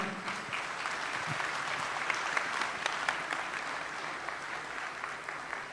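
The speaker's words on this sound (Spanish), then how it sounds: "muchas gracias por sus conocimientos, un fuerte aplauso" Steady applause from a medical conference audience, thanking a doctor after a talk on hypertensive disorders in pregnancy, sustained and even throughout.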